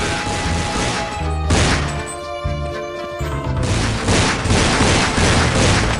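A loud grenade blast in Counter-Strike, a crashing booming burst with rumbling debris that dips briefly, then surges again into dense game noise, with no voices over it.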